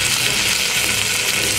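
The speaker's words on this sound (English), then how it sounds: "let the bacon sizzle" Steady, dense crackling sizzle of bacon frying in a pan, close and continuous with no talking.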